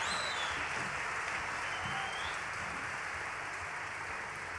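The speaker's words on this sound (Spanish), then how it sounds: "un aplauso" Crowd at a 2008 live rock concert applauding and cheering, a dense continuous roar of clapping and whistles filling the venue, with a brief high whistle near the start.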